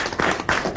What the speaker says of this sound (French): Je voudrais qu'on applaudisse brillamment nos braves